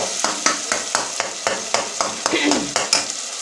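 Tomatoes frying in a pan for beef liver curry, stirred with a steady run of close, scraping strokes over a continuous soft sizzle, moderately loud with no talking.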